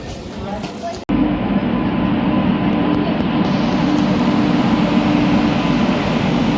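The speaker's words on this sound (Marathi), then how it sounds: "हे आलेले ट्रेन, या ट्रेनमध्ये जायचं." Passenger train at a station, a loud, steady rumbling drone of rolling carriages after a sharp start, continuous and close throughout.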